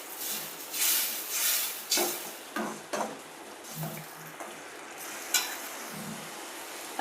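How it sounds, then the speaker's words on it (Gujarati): Chickpea curry masala with chilli powder and salt fries in oil in a pan. Soft sizzling runs under intermittent scraping stirs and a few clinks, close and fairly quiet, with no voices. "આપણે તેલ છૂટું પડે ત્યાં સુધી આપણે તળવા દઈશું."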